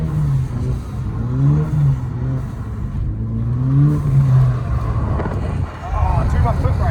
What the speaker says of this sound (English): we're taking out a stock EcoBoost Mustang